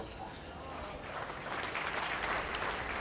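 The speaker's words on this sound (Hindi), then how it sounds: "ताली किसके लिए बजा रहे हो मेरे भाइयों?" Audience at a political speech breaks into applause, a dense wash of clapping that swells louder partway through and carries on steadily to the end.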